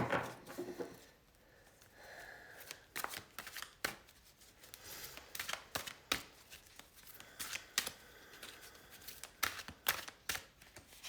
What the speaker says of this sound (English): Let me just go shuffle a little bit more to see if there's another card that wants to come out